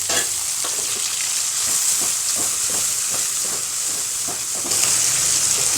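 Tomatoes and onions sautéing in a pan for potato kurma, a steady loud sizzle with a run of soft scraping stirs. The hiss swells a little louder near the end, and no one speaks.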